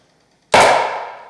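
A homemade PVC 40mm airsoft launcher fires a rubber golf ball, giving one sharp, loud pop after a half-second of silence, followed by a bright, hissing decay that fades over the next second.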